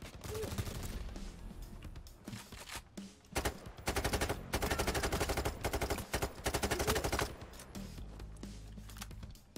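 Rapid automatic gunfire in the heist shooter Payday 3, with dense bursts of shots punctuated by short gaps and some louder sustained volleys, alongside faint game background sounds.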